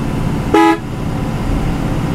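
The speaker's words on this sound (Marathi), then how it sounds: "दादा हॉर्न मार ना हॉर्न" A single short blast from a travel bus horn on a trip from Borivali to Shiroda, loud and close over the steady rumble of the road.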